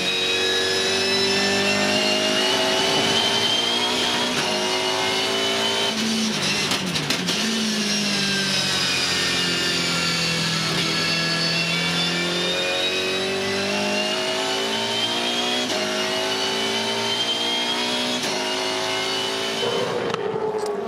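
A Volvo S60 Supercars race car engine roars continuously from onboard during a race, its pitch climbing and falling through gear changes, loud and close with no talking.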